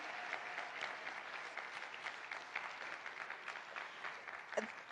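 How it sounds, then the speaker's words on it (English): Steady applause from a conference audience greets a keynote speaker at an African philanthropy conference. The clapping sounds fairly distant and faint, an even wash of many hands lasting several seconds. "Let's give Dr. Iskander a big round of applause"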